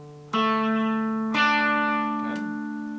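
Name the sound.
electric guitar playing second chord shape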